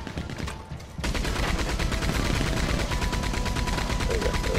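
Rapid machine gun bursts rattle continuously in a Red Dead Redemption 2 shootout at a hideout, dense and loud after a brief quieter opening.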